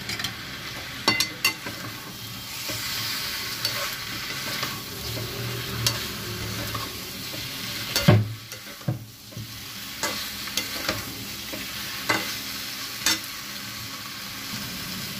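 Eggplant pieces fry and sizzle in a hot pan while being stirred, with scraping clatters and a few sharp knocks against the pan over a steady crackling hiss.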